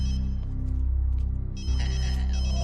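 A telephone rings with a steady electronic trill that changes timbre partway through, sounding close and fairly loud over a low hum with no voices.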